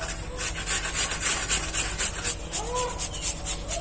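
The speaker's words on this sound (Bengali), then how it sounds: "প্রথমেই আলুটাকে আমি গ্রেট করে নেব।" A raw peeled potato is grated by hand for a snack batter, with steady rhythmic rasping strokes close up, roughly four per second, under a high background whine.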